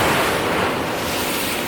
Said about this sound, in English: it is literally downpouring outside